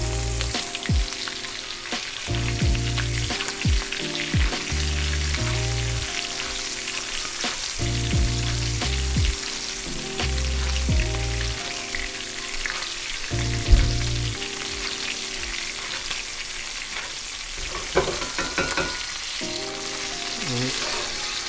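A ribeye steak sears in a cast iron pan, a steady crackling sizzle running throughout while deep low tones pulse beneath it and occasional clinks break through, with no voices.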